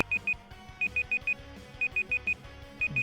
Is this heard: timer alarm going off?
yes